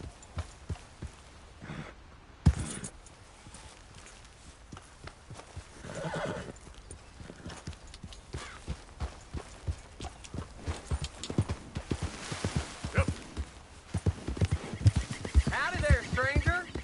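A horse in Red Dead Redemption 2 clip-clops along with steady hoof beats and snorts, letting out a whinny partway through, while someone talks over the hooves.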